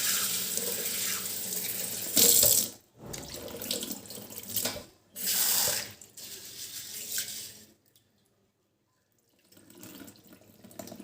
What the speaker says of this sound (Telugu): ఈ పెసర్లు ఇవేం చేయాలంటే బాగా ఫస్ట్ మనం కొంచెం బాగా వాష్ చేసుకోవాలి